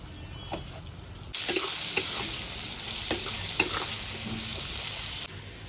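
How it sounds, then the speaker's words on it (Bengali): Taro pieces with salt and turmeric fry in a pan. A loud sizzle bursts in after a quiet moment, runs steadily with a few stirring knocks, then cuts off abruptly near the end. "কচুগুলো লাল লাল করে ভেজে নিয়েছি"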